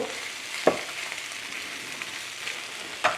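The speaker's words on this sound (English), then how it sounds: "And you can hear it sizzling" Beef with peppers and tomatoes sizzles steadily in a hot pan, a soft crackling hiss broken by a few sharp scraping clicks of stirring.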